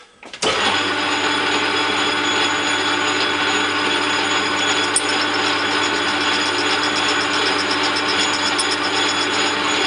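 A lathe cutting a PVC barrel starts up abruptly with a loud mechanical whir and grinding hum. It holds steady and close with a faint rhythmic ticking over the drone.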